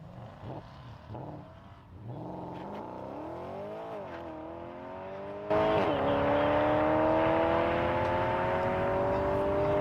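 A car engine revs with rising and falling tones that climb in pitch. It surges suddenly louder halfway through and keeps accelerating strongly to the end, close and with no speech.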